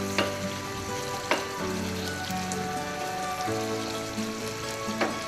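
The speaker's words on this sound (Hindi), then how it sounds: "अच्छी तरह इस तरह मिक्स कर लेती हूँ इसको।" A fish curry simmers and sizzles in a pan while coriander is stirred in, a dense, continuous crackle with a few sharp spatula knocks against the pan, close and alone without speech.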